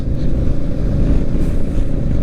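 A Yamaha R15 motorcycle rides down a mountain road from Manali toward Ambala, its engine a steady, constant drone mixed with rushing wind noise, with no speech.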